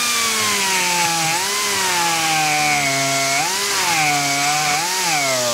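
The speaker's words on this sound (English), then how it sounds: "This bronze cuts quite nicely with a nice short cutter and a die grinder." A die grinder with a short cutter machines bronze, whining loud and close, its pitch sagging and rising as the tool loads and eases off the metal throughout.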